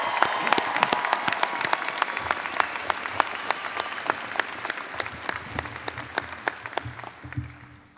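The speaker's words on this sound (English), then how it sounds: "How about a big round of applause for your tremendous accomplishment?" A large crowd at a University of North Texas fall commencement claps for new graduates, crisp individual claps rising out of a broad roar of applause with some cheering, fading toward the end.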